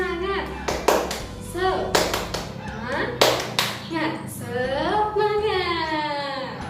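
Fifth-grade schoolchildren in a classroom perform the tepuk semangat clapping routine, with sharp rhythmic group claps in bursts and children's voices chanting along between and over the claps.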